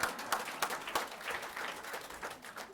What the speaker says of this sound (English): So I should get some applause too.